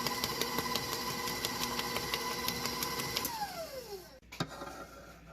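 A stand mixer whirs at high speed through banana maple bread batter, a steady motor whine with a rhythmic beating pulse that slows and winds down before a soft clunk.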